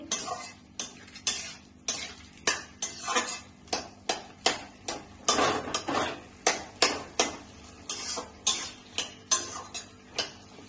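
Potato curry being stirred in a pan after sugar is added, heard as a steady run of about two dozen clacks and scrapes of the spoon against the metal, roughly twice a second, close and without talking.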